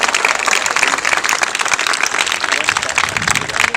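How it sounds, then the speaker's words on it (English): A crowd at a childhood-cancer charity soccer event applauds the soccer players, with dense, steady clapping sustained throughout and no voices standing out. "So a big round of applause to all the soccer players who are out here today."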